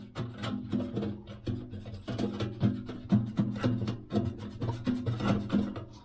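A giant cotton swab scrubs rust inside the fuel tank of a Vulcan 900 motorcycle, making rhythmic, close, muffled rubbing strokes with a hollow tinge.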